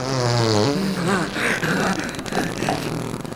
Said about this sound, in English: More farts.